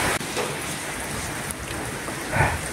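Rain falls during a flood at a house, a steady hissing wash of moderate strength with a brief thump near the start and a small swell toward the end, no voices heard.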